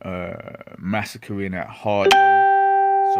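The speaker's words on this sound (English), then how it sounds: "that's my phone going off" A mobile phone goes off partway through, a sustained electronic ringtone with steady tonal notes that cuts in loudly after a man's speech and rings on alone to the end.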